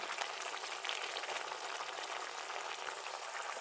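Eggplant pieces frying in oil, a steady, dense crackle and hiss that stays even and fairly soft throughout with no voices.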